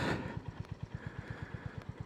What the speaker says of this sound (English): I hope the sound of the engine and exhaust comes out.